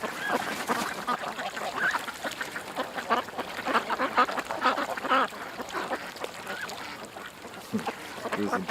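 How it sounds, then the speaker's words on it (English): Ducks quack continuously and loudly, many calls overlapping in a dense, busy chorus close by, with a voice occasionally mixed in among them. "We got duck mating going on."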